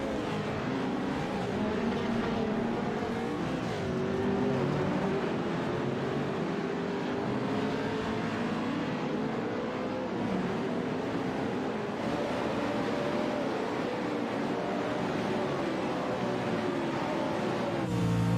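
Engines of sim race cars in a racing game, including a limited-class car, drone continuously, a dense layered roar of several motors rising and falling over a long stretch.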